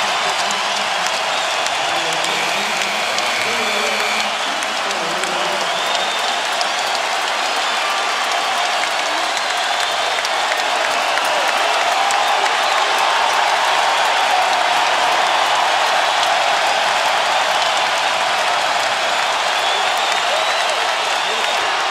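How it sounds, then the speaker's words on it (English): An NBA Finals crowd of Miami Heat fans roars and applauds in a dense, continuous wash of cheering and clapping that stays loud for the full stretch. "Dwayne Wade and LeBron James will come out of the game to the roar of the crowd."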